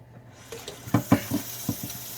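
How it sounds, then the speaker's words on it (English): Vegetables rinsed under a running kitchen tap make a soft stream of water with a few splashing, knocking bursts in the middle, heard close and without voices. "Give everybody a quick rinse."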